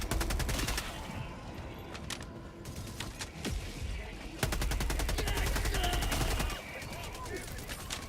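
A sentry turret in Helldivers 2 fires rapid automatic bursts of gunfire. The rattling volleys start and stop, with a long, loud sustained stretch of shooting near the middle, among other battle noise.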